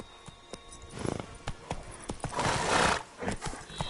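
Roach, Geralt's horse in The Witcher 3, clip-clops at a steady pace close by, with a whinny partway through.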